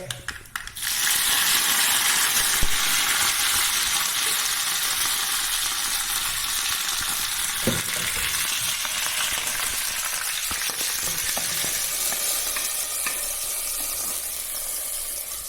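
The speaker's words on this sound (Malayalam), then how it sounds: "ഇനി കറിവേപ്പില ഇതൊന്ന് പൊട്ടട്ടെ. കറിവേപ്പില ഇടാം." Curry leaves spluttering in hot oil while a curry is cooked, a loud, continuous close-up sizzle sprinkled with small crackles and pops that runs unbroken throughout with no talking.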